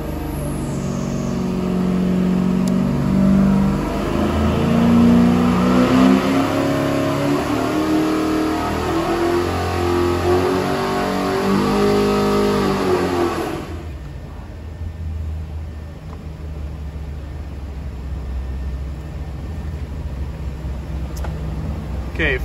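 A 406 cubic inch small block Chevy engine on a dyno, loud and close, climbing steadily in pitch through a full pull to 6,000 rpm, then dropping away to a lower, rumbling idle.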